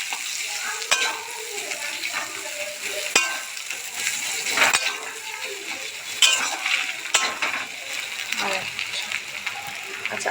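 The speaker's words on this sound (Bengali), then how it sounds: "এবার ডিম আর পেঁয়াজ সব একসাথে আমরা ভেজে নেব।" Egg and onions frying together in oil sizzle steadily in a pan, with scattered sharp pops and crackles throughout, close and moderately loud.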